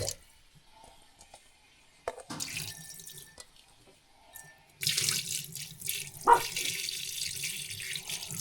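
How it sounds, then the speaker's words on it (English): Ice-cold artesian well water runs from a tap in a homestead kitchen while fresh butter is rinsed of its buttermilk. Quiet splashing and squishing come first, then a louder steady rush of water. "Ice cold water from our artesian well."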